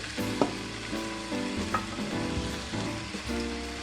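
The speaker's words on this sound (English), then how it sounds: "Then we have to put the basmati rice." Basmati rice sizzling and frying in a pan for Chinese fried rice, a steady crackle broken by several scraping stirs, close and moderately quiet with no talk.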